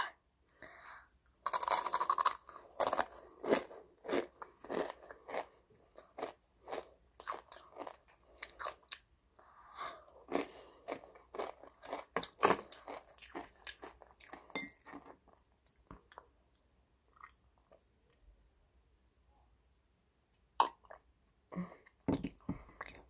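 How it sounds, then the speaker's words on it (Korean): Close-up crunching and chewing of a spicy ramen-flavoured snack, with many sharp crisp bites and steady mouth sounds in an irregular rhythm, plus a few light clinks, in a quiet room. "오늘 이 매운 과자를 먹어볼 겁니다"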